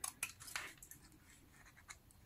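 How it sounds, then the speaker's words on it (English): Scissors snip the corners off a paper craft piece in a few quick, quiet cuts, close and soft with small rustles between them. "Here I'm gonna cut these corners"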